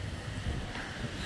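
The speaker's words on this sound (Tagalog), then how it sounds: "Pero mahangin." Strong wind buffets an outdoor space near an airport, a steady blustery roar with low rumbling gusts throughout, no talking.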